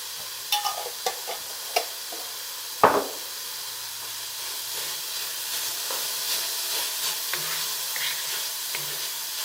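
Ingredients for chicken fried rice, with a sprinkle of ginger, sauté in a wok with a steady, close sizzling hiss, punctuated early on by a few sharp scrapes and clicks of stirring.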